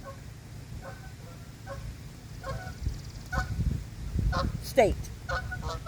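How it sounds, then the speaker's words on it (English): Several geese honk in the distance against outdoor background noise, their calls growing louder toward the end, with a person speaking briefly. "Oh my God, you see all those geese flying in?"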